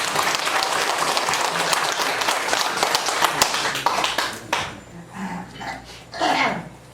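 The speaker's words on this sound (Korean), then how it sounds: "박수 한번 쳐요" A church congregation at a Wednesday service claps loudly and densely for several seconds, then the applause thins out and stops, leaving scattered voices and room sounds.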